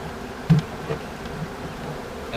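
Honeybees from a freshly caught swarm buzz softly and close at hand as a low, steady hum. A bee passes near the microphone in one brief louder burst.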